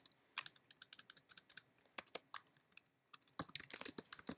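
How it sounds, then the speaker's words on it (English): Computer keys clicked in quick bursts while a four-key shortcut is entered, crisp close-up taps in irregular clusters with a brief pause midway, no talking. "I'm going to create a composite by pressing Command, Option, Shift, E"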